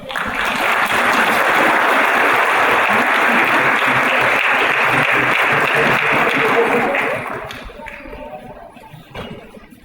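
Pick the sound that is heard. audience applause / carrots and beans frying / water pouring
audience applause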